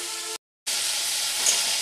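Salted, turmeric-rubbed shrimp sizzle in mustard oil over a medium flame, a loud even hiss cut by a brief silence before the frying noise resumes unbroken.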